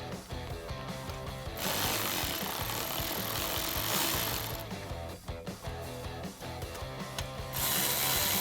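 A ratchet drives 7mm screws back into the rear diffuser of a 2016-2022 Camaro. Close, rapid clicking runs in bursts, with short pauses between turns.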